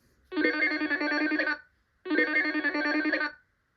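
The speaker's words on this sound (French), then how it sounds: "Pour appeler, La girafe. tape son numéro sur le téléphone." Telephone in a 1991 Ordi Nathan reading game rings in two even electronic bursts of about a second and a half each, separated by a short pause, close and clear with no talk.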